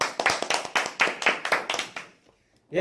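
A small audience in a studio gives a brief burst of hand claps for about two seconds, the claps close and crisp, then falls silent.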